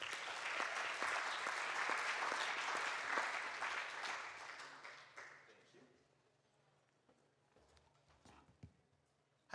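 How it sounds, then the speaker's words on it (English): A summit audience applauds for about five seconds, dense clapping that fades out, followed by near silence with a few faint scattered claps and small noises. "let's give a big round of applause for Andrew"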